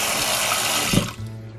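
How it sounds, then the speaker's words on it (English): Water runs hard from a kitchen sink tap as a container is filled, a steady loud rush that shifts in tone near the end as the flow changes. "I'm going to put water in it"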